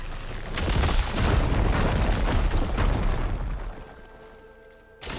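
Fire gleam blasted open in Horizon Forbidden West, a loud rumbling explosion with crumbling debris lasting several seconds, then fading into a quiet tonal game hum before a short final thump.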